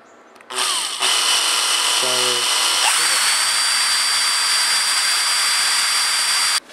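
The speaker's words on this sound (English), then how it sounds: "Take a drill, place it in the top here, keep it straight." A power drill bores a hole into a Tikka T3X rifle, starting with a brief spin-up and then running as a loud, steady, high whine that holds for several seconds before cutting off.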